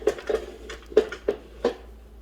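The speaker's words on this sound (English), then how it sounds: "So I'm whisking" Metal whisk clinking against the inner pot of an Instant Pot while stirring a yogurt mixture: about five sharp, close taps in an uneven rhythm, with soft scraping between them.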